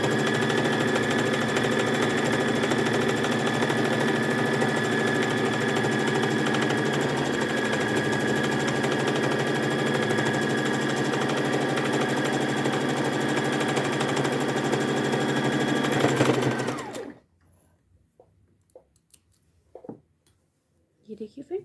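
A sewing machine runs a steady, continuous whirring line of double stitching on kids' trousers, close and even for about seventeen seconds before stopping abruptly into near silence with a few small clicks.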